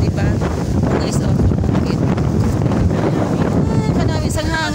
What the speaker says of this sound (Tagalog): Kanami sang hangin.